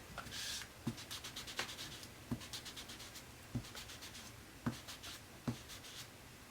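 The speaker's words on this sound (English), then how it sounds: "I'm going to go ahead and press my ink pad onto this white paper" Ink pad pressed repeatedly onto white paper while making a folded sentiment card, a soft tapping that lands in a steady series of about eight faint, evenly spaced dabs in a quiet room.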